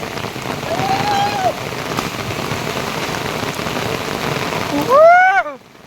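Steady heavy rain hisses and patters on surfaces outdoors near a stream in the Konkan countryside, a continuous dense wash. A whistled or animal-like rising call cuts through near the end before the sound drops away.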